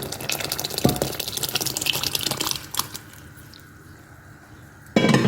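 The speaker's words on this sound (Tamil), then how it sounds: "பருப்பு கடைஞ்சி வச்சுருக்கோம் பாருங்க அந்த பருப்பை ஊற்றிக்கலாம்" Thick mashed lentils pour and splash into a pot of lentil kuzhambu for a few seconds, then quiet to a low simmer before a sudden louder burst of noise.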